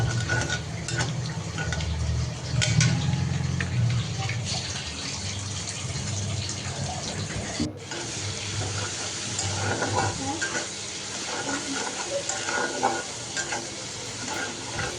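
An egg frying in a hot pan, a loud continuous sizzle with stirring and scraping noises throughout and a brief break partway through.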